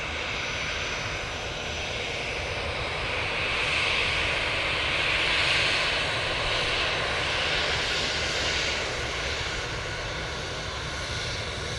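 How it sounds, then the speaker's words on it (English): Jet aircraft at Manchester Airport roars steadily and loud, its engine noise swelling gently mid-way as it passes close in front, with no talk over it. "These jets coming on right in front of us."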